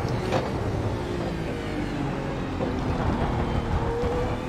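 A steady, roaring GT1 race car engine and road noise drone on evenly under braking in iRacing, heard from inside the car with no one speaking.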